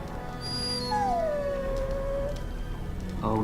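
A dog in the video game Dragon Age Origins lets out a long, drawn whimpering howl that bends downward and trails off, heard alone over a steady game ambience.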